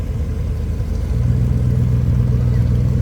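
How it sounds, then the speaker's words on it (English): A Ford Falcon Sprint 8 prototype car pulls away at an outdoor antique car show, its engine a loud, steady low rumble that swells slightly as it drives off, with no talking over it. "So there goes that prototype, that Ford Falcon."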